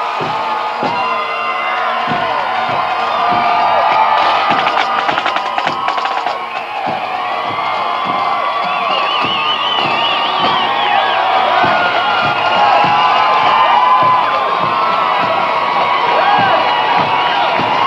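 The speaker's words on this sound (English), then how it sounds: "Here they come, the crowd's cheering." A large, loud crowd at the Blue Jays World Series victory parade in Toronto cheers and shouts continuously, with children's shrill voices and scattered whistles in a sustained roar.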